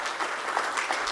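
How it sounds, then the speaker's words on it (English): Audience applause at a live stream event for a bird report launch, a continuous mid-loud patter of many hands clapping with no voices over it. "let's just clap for everybody and all the work that has gone into"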